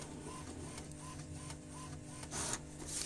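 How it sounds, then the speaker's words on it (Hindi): HP ink tank printer printing a page with black ink failing, a steady mechanical whir with rhythmic soft clicks of the carriage and a louder feed rush near the end, no talking. "आ रहा है प्रिंट"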